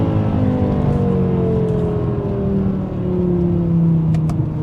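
A 500 hp V10 BMW M5 with a seven-gear transmission pulls hard under acceleration on the road, its steady close engine drone holding loud for the whole stretch with slowly rising harmonics.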